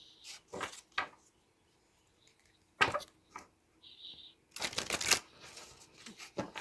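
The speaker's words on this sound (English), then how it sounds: "I also like to shuffle on camera so that you guys can see that they've been shuffled." Bursts of tarot card shuffling, a few quick riffles separated by pauses, with a brief bridge-like flutter at the end; close and fairly loud.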